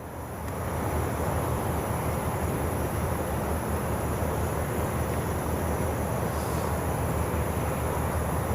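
A De Havilland Beaver propeller aircraft at an airfield, a constant broad roaring engine drone that swells in after the first second and holds steady and fairly loud, heard from a distance with no voices over it.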